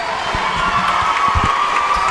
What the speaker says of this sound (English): please join us in a round of applause for all of our seniors